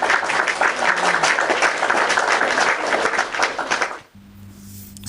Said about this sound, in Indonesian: Mari kita tepuk tangan buat anak-anak Dangdut Akademi 7.